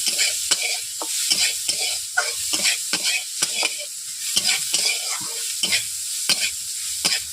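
Onions fry in a pan for spinach greens. A utensil scrapes and stirs in repeated sharp strokes over a constant bright sizzle, close and loud, and no voices are heard.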